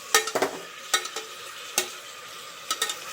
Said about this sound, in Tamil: இதோடு சேர்த்து நல்லா வதக்கிட்டிங்கன்னா நல்லாயிருக்கும்.